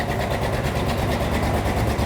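An auction race car engine idles roughly and choppily, running rich, a loud steady low rumble with an uneven pulsing beat close by and no voices.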